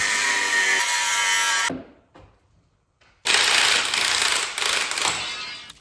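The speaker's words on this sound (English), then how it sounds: "that's what they make grinders for" Angle grinder cutting through stripped strut mount bolts on a VW Jetta, a loud continuous high-pitched whine that cuts out briefly partway through and then resumes at full strength.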